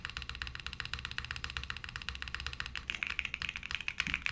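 Fast typing on a mechanical keyboard fitted with PBT Alpha keycaps gives a close, steady run of soft clacky keystrokes with a quick rhythmic patter, no talk.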